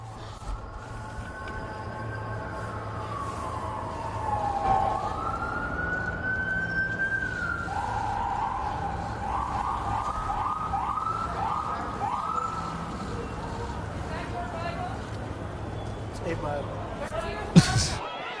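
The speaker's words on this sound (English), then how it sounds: "As sirens sound in the background" A police siren wails steadily throughout, rising and falling under a constant rumble of traffic, with a sharp knock near the end.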